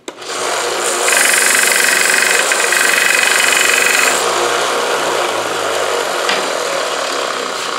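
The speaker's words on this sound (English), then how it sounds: "I'm just going to put it over here on this little sander" A small bench sander runs loud and steady while a wooden dowel is pressed against it to square it up, the grinding whine rising for a few seconds of contact before easing back to the motor's hum.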